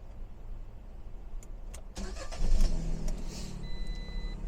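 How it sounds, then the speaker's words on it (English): A Fiat car's engine starts: a few faint clicks and a cranking whir, then the engine catches with a louder burst and settles into a steady idle, with no talk. "what I'm going to do is just start the car up."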